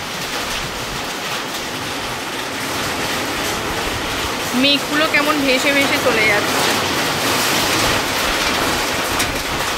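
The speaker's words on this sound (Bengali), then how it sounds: "তো এখন বৃষ্টি শুরু হয়ে গেছে।" Steady rain hiss on a tin roof fills the background, with a person speaking briefly over it partway through.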